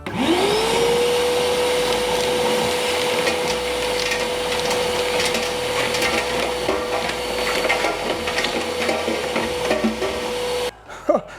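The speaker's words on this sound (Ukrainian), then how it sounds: "давайте попробуємо, як пилосос тягне крупний різний мусор" A loud STARK VC201 30 HEPA construction vacuum cleaner runs steadily with a high whine while rattling coarse debris is sucked through the hose, then the motor cuts off.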